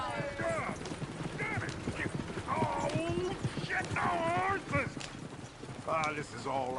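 Horse hooves clip-clop in a steady walking rhythm in the Red Dead Redemption 2 video game, close and clear beneath frequent character dialogue.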